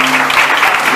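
Congregation in a Baptist church service applauding, a brief, loud, dense patter of many hands with a faint steady tone underneath.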